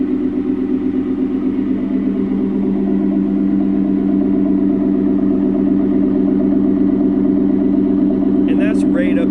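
A Ford F-150 with a 5.0 V8 and CORSA Xtreme exhaust idles, a steady deep burbling rumble heard close to the tailpipe, unchanging in level, with a short beep near the end.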